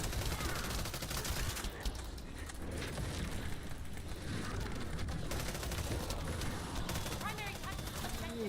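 Video game gunfire comes as dense, continuous volleys of rapid shots and bursts, loud and relentless throughout, with a voice talking over the action.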